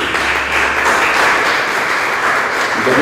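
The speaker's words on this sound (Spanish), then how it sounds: "Un fuerte aplauso para él." An audience at a radio announcers' day event breaks into loud, sustained applause, many hands clapping together steadily for a few seconds.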